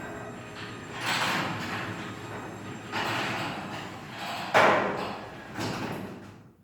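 A Craftsman garage door opener runs, its motor droning while the door rumbles along its track in repeated surges, with a sharper clunk partway through. The sound is moderately loud and close, with no speech.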